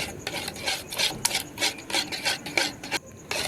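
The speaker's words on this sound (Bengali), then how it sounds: "দইয়ের ব্যাটারটাকে গুলে নেব, একটু পাতলা করে নেব।" Quick, scraping strokes of a utensil whisking yogurt batter thinned with milk in a bowl, a brisk rapid rhythm of rasping swishes close up and alone.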